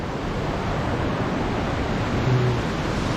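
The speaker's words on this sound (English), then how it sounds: "you can just see there's a pretty cool waterfall over there" A Himalayan waterfall high in the mountains of Nepal, around 3,500 m, rushes with a steady, unbroken broadband roar. The water noise stays constant throughout, with no voices.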